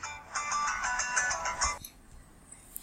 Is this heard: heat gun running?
no